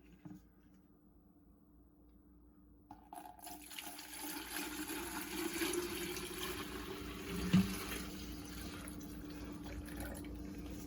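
Juicer parts for Jamaican carrot juice rinsed under a running tap in a sink, a steady hiss of flowing water that starts after a near-silent opening and builds, with splashes and a brief clatter.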